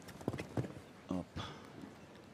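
Hooves of a show jumping horse thud on the footing of an arena during a jump-off in Vienna, a few separate heavy beats in uneven rhythm, moderately close, with faint crowd or arena noise between.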